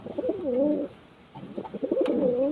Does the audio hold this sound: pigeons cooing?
yes